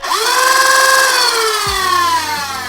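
A Rayvenfire foam dart blaster with full RGB programmable lighting revs its flywheel motors, a loud close whine that climbs in pitch, holds steady, then slowly winds down, with a brief low thump partway through.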